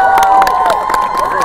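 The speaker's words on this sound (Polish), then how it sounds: "Wielkie brawa dla ksiądza arcybiskupa!" A crowd of pilgrims welcoming the archbishop at Jasna Góra cheers and shouts loudly and steadily, with children's voices mixed into the dense, continuous noise.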